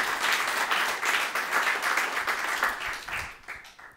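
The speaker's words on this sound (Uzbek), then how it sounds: "Olqishlar bilan boshlaymiz." A studio audience on a quiz game show applauds, a dense, sustained round of clapping from many hands at close range that thins out toward the end, with no voices.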